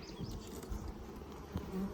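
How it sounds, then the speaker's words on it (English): Close, continuous buzzing of a honey bee during an inspection of hive 20, rising and falling slightly as it hovers near the open boxes, with no talking. "This bee is driving me nuts"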